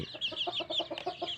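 Several chickens cluck in quick, repeated bursts close by, a steady rhythmic chatter of short notes with a few higher squawks over it and no voices.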